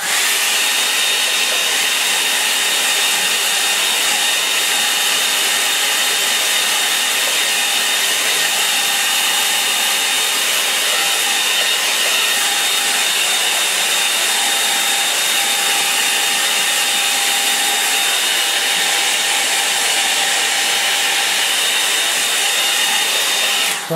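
A hair dryer blows steadily and close for the full length, a loud, even whooshing whine used to dry a quick line-and-wash watercolour sketch, with no talking.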